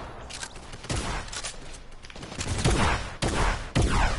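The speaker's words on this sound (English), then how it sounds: "Where am I getting shot from?" Gunshots in the Fortnite battle royale, loud sharp reports arriving in irregular bursts with several distinct cracks over a few seconds.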